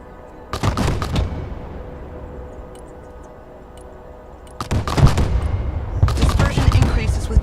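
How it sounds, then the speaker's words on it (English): Artillery fire mission in the Broken Arrow video game: volleys of booming shots crack out in clustered bursts, separated by a quieter rumbling pause, with a heavier rolling barrage at the end. "Here our soldiers practice fire mission procedures."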